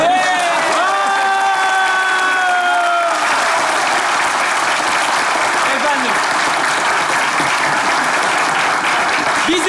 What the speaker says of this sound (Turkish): İrem Derici'ye kocaman alkışlar.